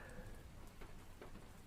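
Steady rain falling outdoors, a constant soft hiss of drops with a few slightly sharper taps, low and even throughout with no voices over it.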